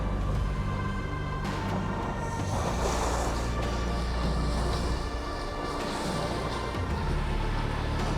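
A cruise boat moving across a Muskoka lake, with a steady engine drone, water rushing along the hull and wind buffeting the microphone throughout, and no voices.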